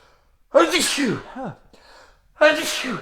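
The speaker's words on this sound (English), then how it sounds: "Sneeze." Two sharp sneezes burst out close up, a second apart, separated by a short breathy pause.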